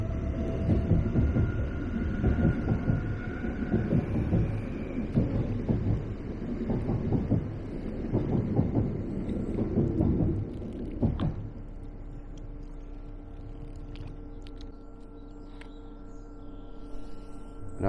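Train passing nearby with loud rumbling and rhythmic rail clatter that dominates for about ten seconds, then abruptly drops to a faint distant hum.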